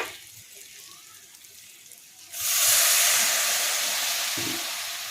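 Water poured into frying chili-powder spice paste for paneer bharta sets off a sudden loud, broad sizzling hiss that swells and holds steady, slowly easing over several seconds after a quieter lead-in.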